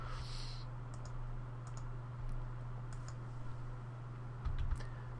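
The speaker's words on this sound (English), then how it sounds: "I've been tapping F8 on the keyboard" Someone repeatedly tapping the F8 key on a computer keyboard during a reboot into safe mode, producing faint, scattered clicks over a steady low electrical hum.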